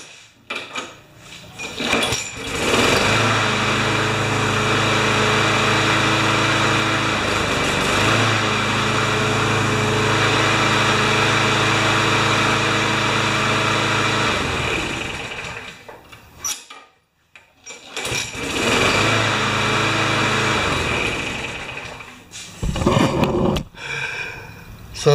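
A Briggs & Stratton Quantum lawn mower engine, around 2005 vintage, runs steadily at clamped throttle with a strong, even drone, cuts out briefly near the middle, then restarts and runs again.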